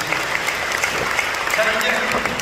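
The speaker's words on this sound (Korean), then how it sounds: "우리 김정현 총회장 박수해 주시면 감사합니다" A large church congregation at a Korean Protestant mission anniversary concert applauds steadily, a continuous crackling wash of many hands, moderately loud, with faint voices beneath.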